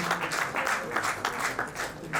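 An audience claps to welcome a revered guru onto the stage, dense applause swelling in uneven bursts, close and fairly loud.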